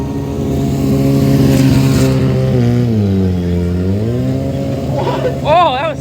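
Stunt motorcycle working a freestyle ramp at a stunt show, its engine droning loud then dipping and climbing in pitch, with voices talking and a shout near the end.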